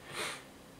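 A single close sniffle from someone with a cold: one short nasal inhale that swells and fades within a second, with no talking.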